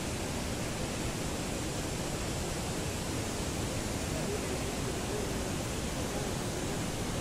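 Kravica waterfall in Herzegovina pours with a constant, even roar of rushing water, dense and unbroken throughout, with no voices.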